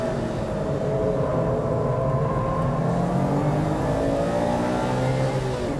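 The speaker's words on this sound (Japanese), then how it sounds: "ストレートでは6速まで使用、最高速は230キロオーバ" A car accelerating hard at Fuji Speedway, running up to sixth gear and past 230 km/h on the straight, gives a loud, steady engine roar with a rising pitch throughout and no talking over it.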